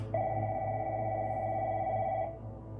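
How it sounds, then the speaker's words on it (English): A home landline telephone rings in a basement as one continuous electronic trill of about two seconds that stops abruptly, with a low steady hum underneath. "the phone went off"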